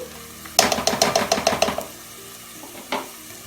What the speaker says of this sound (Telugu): మధ్య మధ్యలో కలుపుకుంటూ ఇలా ఫ్రై చేసుకుంటే సరిపోతుంది